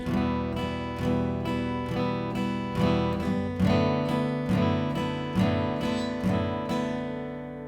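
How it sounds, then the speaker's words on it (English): An acoustic guitar strums steady, even eighth-note strokes, each chord ringing brightly into the next before fading at the end. "Now the next simplest way to play it is to play 8th notes"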